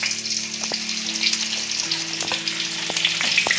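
Mixed vegetables fry in hot mustard oil, hissing and sizzling continuously up close, with occasional sharp clicks and crackles of spattering oil and stirring.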